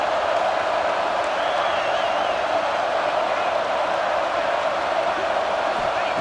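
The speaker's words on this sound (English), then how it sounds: "It's early, but this crowd is fired up. Listen to this noise here." A video-game stadium crowd in EA College Football 26, at Georgia versus Ohio State, roars steadily and densely throughout, loud and unbroken, with faint whoops rising out of the wall of noise.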